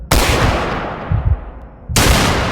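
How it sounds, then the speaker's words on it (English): Two loud, close gunshot blasts, each followed by a decaying rumble, the second arriving near the end, staged as a gunfire sound effect for a documentary reenactment of a shooting. "and guns were fired"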